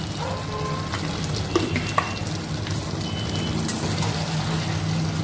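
Paneer frying in a pan as roasted white sesame seeds go in, giving a steady dense sizzle with a couple of small clicks of a utensil and no voices.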